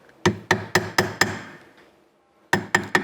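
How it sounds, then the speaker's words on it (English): A mallet strikes a metal ring resting on a jeweller's bench peg, landing five sharp, evenly spaced blows close up. A short pause follows, then three more quick strikes. "So as you hammer, you must turn your ring around so that you're able to hammer on each and every side of your ring."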